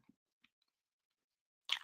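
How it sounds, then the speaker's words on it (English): Someone chewing gum close to the microphone: a few faint, moist clicks, a long quiet pause, then a louder wet chomp at the end. "just chew up some gum"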